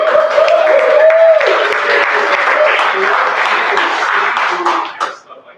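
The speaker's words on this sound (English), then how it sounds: "Let's clap." An audience at a design week talk claps and applauds together, a loud, full burst of many hands that holds steady before tapering off quickly at the end, with a brief voice heard over it.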